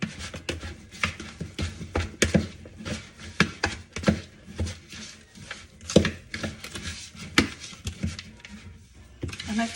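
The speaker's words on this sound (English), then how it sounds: "I like to get my mincemeat really minced, really." Knife rapidly chopping seasoned mincemeat with curry powder and thyme on a board, a dense run of close, uneven taps and scrapes with no talk.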